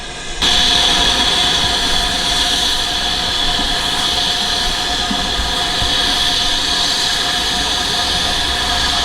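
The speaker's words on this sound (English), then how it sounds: "The train arriving at platform number 1 is the 9:54 service for Leicester." A heritage train at the Great Central Railway rumbles into a station platform with a loud, steady mechanical roar and faint squealing, sustained from a sudden start.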